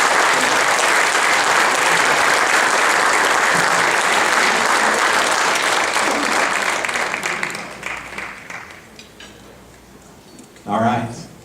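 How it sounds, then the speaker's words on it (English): Loud, sustained audience applause fills a hall during a football hall of fame ceremony, tapering off over the last few seconds before a voice briefly speaks near the end. "How about a huge round of applause for grandson."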